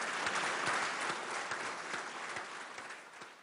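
Indian space scientists clap together in celebration of their Mars mission's success, a steady round of many hands heard clearly at moderate distance for a few seconds, no voices over it.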